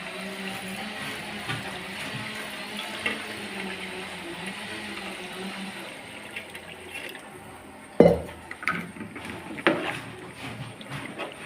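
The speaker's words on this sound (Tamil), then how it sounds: "இனி வந்து தேவையான அளவு தண்ணி ஊற்றணும்" Water is poured into a pan of masala-coated chicken curry while cooking, giving a sudden splashing pour over a low kitchen hum, followed by a few shorter splashes and stirring sounds, with no speech.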